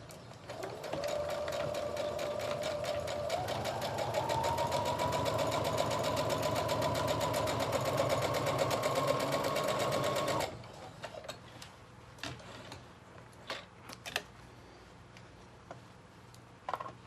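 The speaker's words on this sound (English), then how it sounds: "you want to go through and sew all of your facing pieces together" A sewing machine stitching jacket facing pieces together with a 5/8-inch seam runs steadily at close range for about ten seconds, then stops, leaving faint ticks and handling clicks.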